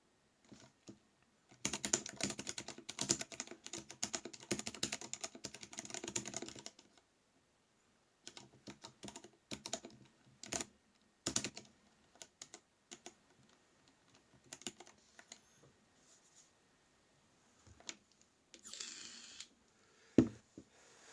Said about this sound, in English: I'm used to pressing the keys way harder than I am